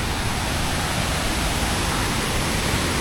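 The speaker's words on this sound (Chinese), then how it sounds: "还行吧，小瀑布吧" A small waterfall in a forest gives off a loud, steady roar of rushing water that stays close and unbroken throughout.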